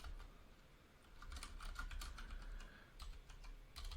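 Quiet, close computer keyboard typing with irregular clusters of light key clicks over faint background hum, no voice present.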